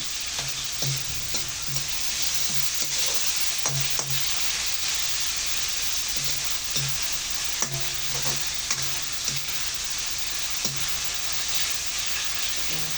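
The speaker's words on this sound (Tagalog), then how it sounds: "Hintayin natin magisang-gisa yung ating chicken" Chicken pieces sauté in a hot pan for a string bean dish, giving a steady close sizzle with repeated scraping stir strokes and light clacks throughout, no voices.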